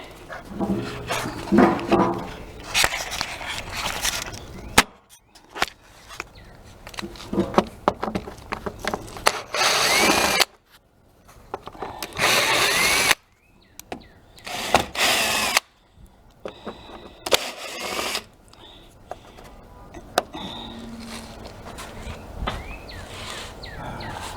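A power tool works on a plate on an Astro van rear door, bursts of loud, close whirring and grinding that start and stop repeatedly, broken by short silent gaps.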